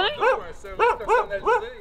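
Dogs barking and whimpering close by, several short yips in a quick uneven series, loud and alone in a home setting.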